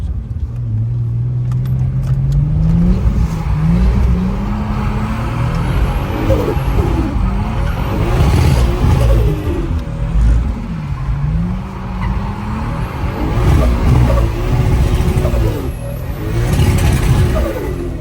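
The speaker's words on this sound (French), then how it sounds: "Tu fais du drift, hein? Oui, à mort." BMW with a swapped 2JZ engine drifting, loud and close, its engine revving and rising in pitch through repeated throttle blips while tyres skid and squeal, with passengers talking under the noise.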